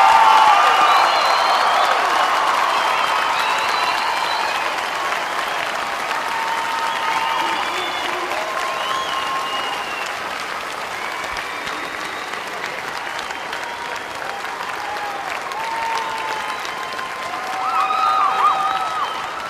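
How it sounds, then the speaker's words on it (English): A large audience at a fall university commencement ceremony claps in long, dense, sustained applause for the graduates, a continuous roar of hands with scattered whoops and voices mixed in, swelling slightly near the end. "Will the members of the audience please join me in one final round of applause to recognize these"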